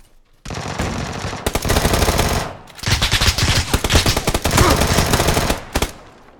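Machine gun fire in the PUBG battle royale game: two long, loud, rapid bursts of gunfire separated by a brief pause, close and dominant.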